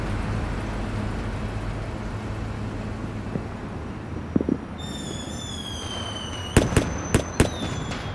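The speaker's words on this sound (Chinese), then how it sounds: "烟花" Fireworks burst outdoors over a steady traffic-like background rumble: a few dull thumps, then whistling rising streaks, followed by several sharp, loud cracks and bangs near the end.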